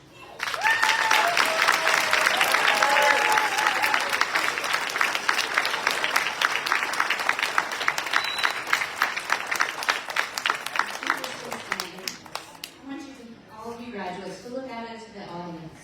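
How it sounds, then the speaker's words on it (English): An audience at a college graduation ceremony breaks into sustained applause, dense clapping that gradually thins to scattered claps before a speaker's voice resumes near the end. "let's please join me in applauding them"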